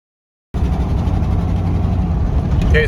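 A 2005 Ford F250 pickup with a 5.4 engine and random misfires drives on a test run, giving a steady, loud rumble of engine and road noise inside the cab after a brief silence.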